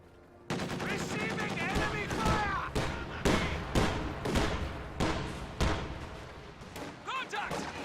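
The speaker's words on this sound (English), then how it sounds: "Contact! Small arms fire!" Small arms gunfire rattles through a military strategy video game match as dense, loud bursts of rapid shots and thuds, with game voices calling out over the shooting.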